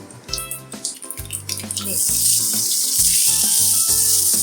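Mustard seeds spluttering in hot coconut oil for a squid thoran: after some brief music, a dense, steady crackling hiss rises and keeps going close and loud.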